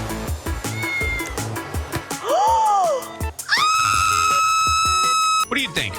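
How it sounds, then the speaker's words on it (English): A cat in a video game roleplay meows several times, a short rising mew followed by a long drawn-out wailing cry, heard between bursts of game sounds and talk. "I hear a cat."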